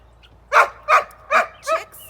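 Dogs on a homestead bark four times in an even rhythm, fairly close and clear over a quiet background, with the last bark slightly higher and more yelping.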